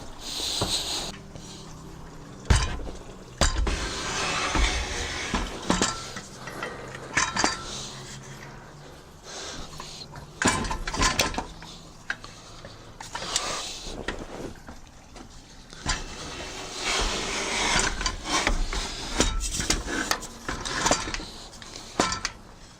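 Solar panel rail hooks clank and scrape against a metal balcony railing, with repeated loud metallic knocks and rattles over about twenty seconds of outdoor wind noise.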